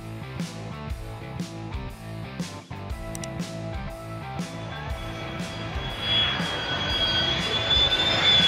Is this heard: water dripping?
no